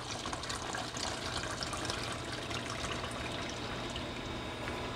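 Tap water runs steadily into a film developing tank during home E6 slide processing with an Arista Rapid kit, a continuous close rushing fill with no pauses.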